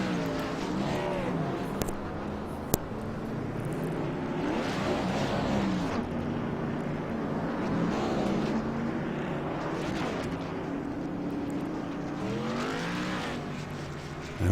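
Race car revving hard through a burnout after winning the race, a continuous loud rasping engine roar that rises and falls in pitch, with faint talk underneath.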